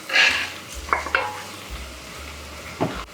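Browned beef tipped back into a hot pan for a Hungarian goulash with tomato puree, a short sizzle with a few scraping stirs and utensil knocks, close and alone.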